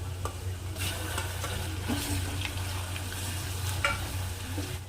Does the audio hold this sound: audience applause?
no